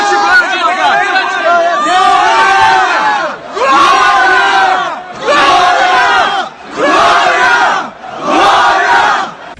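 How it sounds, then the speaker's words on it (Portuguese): A large crowd shouts "Glória a Deus" in unison, six loud chanted bursts with short pauses between them, close and full-voiced. "Glória a Deus! Temos que glorificar e honrar o nome do Senhor Jesus"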